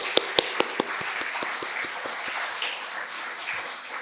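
Congregation in a Korean church service clapping together in worship, a few sharp claps up front giving way to steady, moderately loud applause that fades out over several seconds.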